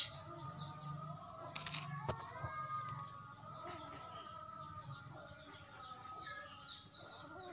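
Bright, varied oriental magpie-robin calls and chirps repeat throughout, fairly faint, over a quiet outdoor background with a soft low hum.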